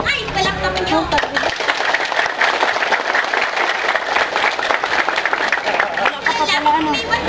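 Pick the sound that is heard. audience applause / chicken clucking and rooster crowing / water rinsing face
audience applause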